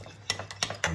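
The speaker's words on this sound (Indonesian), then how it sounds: "Aduk." Food being stirred in a pot while preparing Indonesian fish otak-otak, giving a few soft scraping, clinking strokes at an irregular rhythm over a low steady hum, close and fairly quiet.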